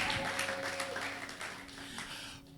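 A church congregation claps in a dense, steady patter that stays fairly even throughout, with a voice and some tonal sound running underneath.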